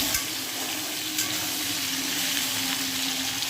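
Cauliflower and papaya sizzle steadily in hot oil in a pan, a continuous loud frying hiss with faint stirring and no voices.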